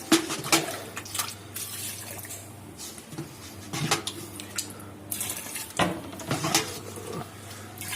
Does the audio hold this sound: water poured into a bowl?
yes